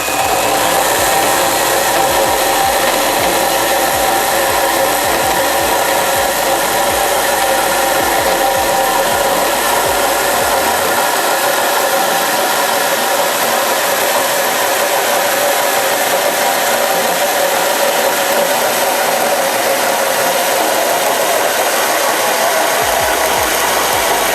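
A Milwaukee M12 FHS-0 cordless chainsaw cuts through oak with a loud, steady, close buzzing whine that holds without pause throughout.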